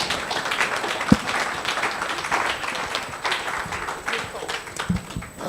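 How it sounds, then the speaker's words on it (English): An audience at a conference for the International Day for Universal Access to Information applauds. The clapping is steady and moderate, with a few sharper knocks and crowd chatter mixed in. "You can clap for all."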